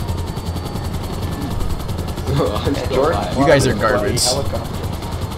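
Rotor blades of a video game helicopter beat in a fast, even chop under a steady engine drone, while several people talk and banter loudly over it.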